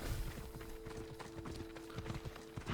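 A horse gallops in the video game Assassin's Creed Odyssey, with rapid rhythmic hoofbeats pounding steadily over a low steady hum and outdoor ambience.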